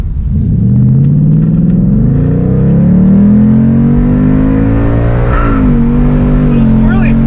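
A Ford Mustang GT PP1 with the 5.0 V8 and 10-speed automatic launches hard in drag mode on a public drag strip, its loud engine roar climbing steadily with a gear-change dip near the end. Voices are heard inside the car.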